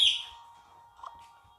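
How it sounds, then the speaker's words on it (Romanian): A pet parrot, not a cockatiel, gives a bright chirping whistle, loudest at the start and then fading, followed by a softer second call a moment later, against a faint steady tone. "Richard, cântătorul papagal."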